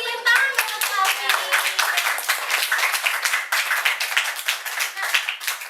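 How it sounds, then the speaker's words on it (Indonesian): A class of children claps for a classmate, a dense, lively burst of many small hands beating steadily and close by throughout, with a few young voices faintly mixed in at the start. "Kasih tepuk tangan buat Alvin"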